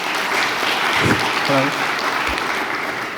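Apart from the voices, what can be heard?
audience applause for a workshop speaker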